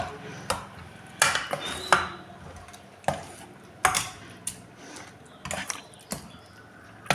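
Sweet pongal with jaggery being stirred in a pot, with irregular scrapes and metallic clinks of a spoon against the vessel, close and fairly quiet, with no talking.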